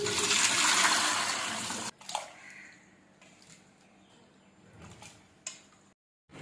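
Lentils and vegetables are washed under a loud rush of running tap water, which cuts off abruptly and leaves drips, splashes and clinks before a final short burst.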